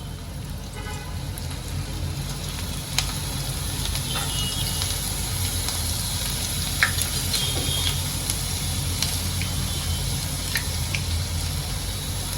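Okra pieces frying in hot oil in a pan give a steady, dense sizzle that holds for the whole stretch, with occasional small pops and crackles standing out near and clear, no voices.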